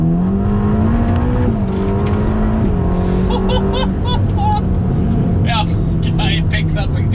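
A Ferrari Roma's V8 engine accelerates hard and close, its pitch climbing through several gear changes, with a brief burble between shifts.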